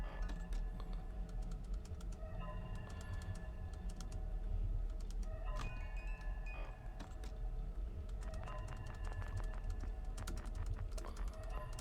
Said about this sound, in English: You guys gonna hear me spam the clicking button.